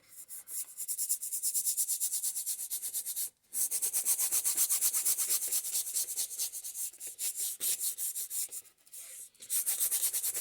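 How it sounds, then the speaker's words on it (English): A brush scrubs thin, very fluid paint into a painting, giving a steady close-up scratchy rubbing in quick repeated strokes, with a brief pause near the start and another near the end. "because I'm rubbing the paint in at this point, and the paint's very fluid and thin"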